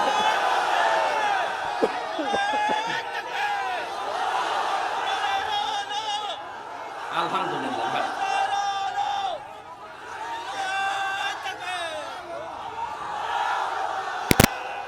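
A large crowd at an outdoor Islamic sermon gathering in Bangladesh shouts back in unison to a preacher's call, with loud chanted voices rising and falling in waves, brief gaps and reverberant roars that last throughout.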